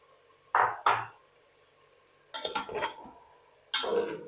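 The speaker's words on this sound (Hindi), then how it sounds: "अब इनकी मैं चिकन के साथ बहुत अच्छी तरह से भुनाई कर लूंगी।" A spoon clanks and scrapes inside a pot as dry spices are roasted with chicken for haleem, in three separate bursts of metallic knocking with quiet gaps between them.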